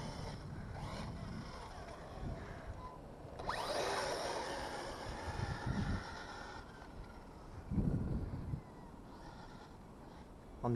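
On a beach, the engine of an ETO 821 revs up in a faint, rough surge that swells for a few seconds and then drops back, with smaller throttle bursts later and low background noise throughout.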